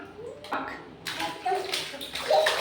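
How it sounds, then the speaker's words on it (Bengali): A child splashes water while bathing. Faint splashes and sloshes come in short bursts, close by, with a voice intermittently over them. "ছাপাক ছাপাক হচ্ছে এটা কি হচ্ছে"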